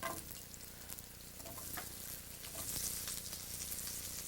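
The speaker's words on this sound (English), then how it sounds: "We're going to saute this very briefly." Half-inch cubes of peppers sauté in butter in a pan, giving a soft, continuous sizzle with light stirring, faint and close, with no talking.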